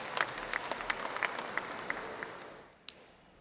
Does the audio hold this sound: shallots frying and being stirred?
no